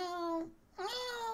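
A human voice imitates a cat meowing, two drawn-out, tonal meows with a brief gap between them, close and fairly loud, the second one rising and wavering like a cat stuck somewhere.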